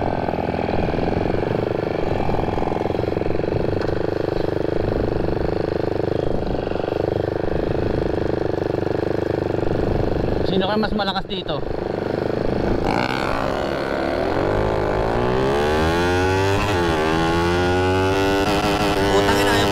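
A Yamaha NMAX and a Mio 4-valve bored to over 230cc race in Manila. A loud engine drone runs throughout and rises into revving sweeps near the end, with people talking over it.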